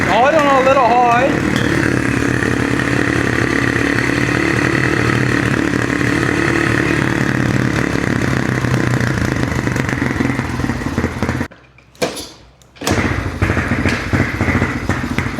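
Motorcycle engine running at a slightly high idle after its carburetor was cleaned, a steady loud mid-pitched drone with a short blip of higher revs early on and a brief cutout near the end.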